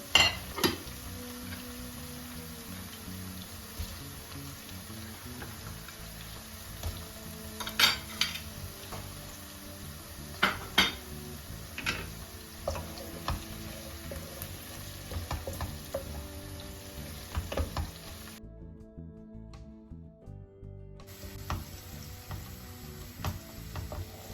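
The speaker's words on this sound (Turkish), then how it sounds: "Tereyağını koydum, eridi. Soğanlarla özleşecek iyice. Kavrulacak." Onions fry in melted butter in a pan for an ebegümeci dish. A soft, steady sizzle runs under intermittent stirring clinks and utensil taps against the pan, all close by and with no talk.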